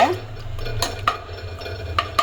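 Curd (yogurt) being stirred and lightly sautéed in a pan while cooking ghee rice and chicken gravy, heard as soft scraping with a few sharp metallic clinks of a spoon against the pan.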